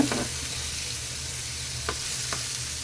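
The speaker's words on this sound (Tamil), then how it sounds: "இது மாதிரி பொறுமையாக திருப்பி விடுங்க பாருங்க மசாலா தெரியாம சூப்பரா வருங்க" Masala-coated fish fries in oil with a continuous crackling sizzle, while a few light scrapes and clinks mark the pieces being turned over in the pan.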